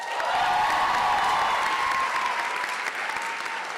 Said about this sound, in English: Please stand and remain standing until we applaud all of you at once.